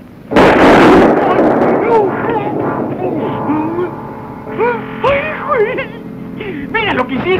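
A single loud shotgun blast booms at the start of a comedy skit, followed by a decaying rumble as shouting voices break out right after.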